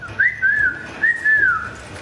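A person whistles a short, wavering tune while climbing around a ladder, two clear sliding phrases close by with no talk over them.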